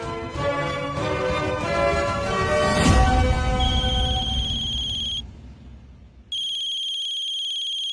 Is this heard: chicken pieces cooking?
no